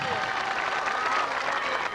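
Warm, steady applause from a live concert audience in Catania, honoring the singer; dense, continuous clapping fills the whole moment at a fairly even level.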